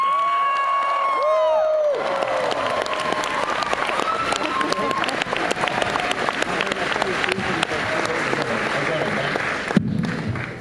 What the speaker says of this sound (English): And now a very special round of applause.